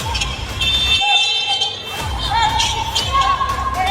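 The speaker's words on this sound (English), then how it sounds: "the buzzer is sounding" A long electronic basketball game buzzer tone sounds for about a second amid crowd noise, with an announcer's voice heard before and after.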